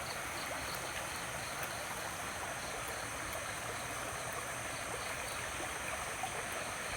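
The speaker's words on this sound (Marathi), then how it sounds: "हे काल रात्रीपासून चालू असलेल्या पावसाचं पाणी आहे" Steady rushing and gurgling of rainwater runoff after a night of rain in Konkan, continuous and fairly close with no voices.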